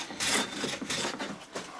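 A hand plane taking shavings off a wooden board, several quick rasping strokes in a row, close and moderately loud, each a short scraping swish.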